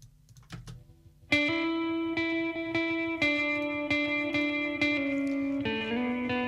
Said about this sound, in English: the lead guitar, I've got a little bit of delay on there